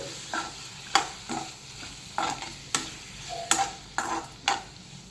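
Tomatoes sizzle with onions in a hot pan, a low steady fry broken by repeated sharp scrapes and taps of a spoon stirring roughly every half second.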